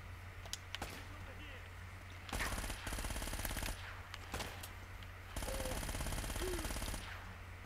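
Automatic gunfire in Uncharted: Drake's Fortune, sustained rapid bursts of rattling shots in several long volleys separated by brief lulls, loud and dense, with speech mixed in underneath.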